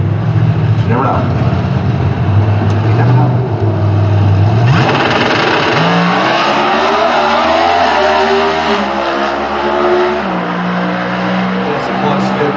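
Factory X drag racing at the NHRA Route 66 Nationals at Route 66 Raceway near Chicago: a Camaro drag car roars loudly with rising engine pitch through several gear shifts, while a commentator talks over the engine noise.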